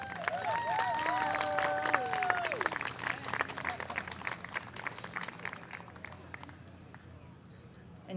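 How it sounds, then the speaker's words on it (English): Crowd applause at an outdoor Juneteenth celebration, a broad patter of clapping that fades gradually, with a voice and scattered crowd noise over the start. "A round of applause."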